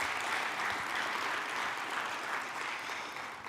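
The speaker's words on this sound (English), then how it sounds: "please give one more big round of applause for Alfredo." Audience applause at an organization's annual meeting: steady, dense clapping from a crowd that fills the whole stretch, fading slightly toward the end, with no talk over it.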